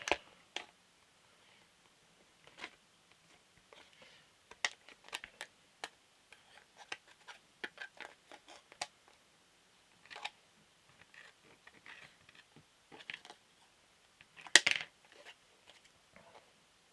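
Fabric knives cutting a leather sheath shape from a sheet, producing sparse, quiet snips and ticks spread out with long pauses, and one sharper click near the end.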